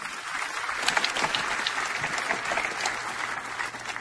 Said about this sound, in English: Can we give Jesus a clap offering?